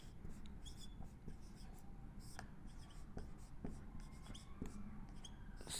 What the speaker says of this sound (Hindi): देखो सबसे पहले हम लिखेंगे सर्वनाम की परिभाषा